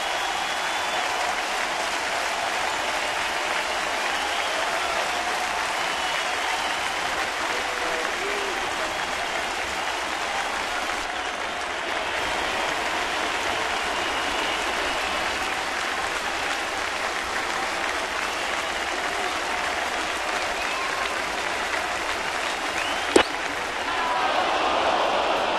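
A baseball crowd in Toronto stands and applauds, a steady, dense roar of clapping and cheering that fills the whole stretch, with a broadcaster's voice faintly over it.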